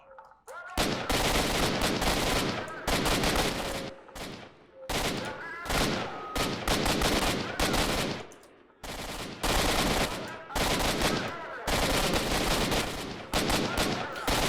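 Rapid automatic gunfire from the video game S.T.A.L.K.E.R. Shadow of Chernobyl comes in four long, loud bursts with brief gaps between them.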